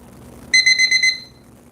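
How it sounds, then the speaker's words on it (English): Alarm clock: a short run of about six rapid, shrill, evenly spaced beeps, loud and close, fading out against quiet background hum. "Alarm is set. Alarm is good."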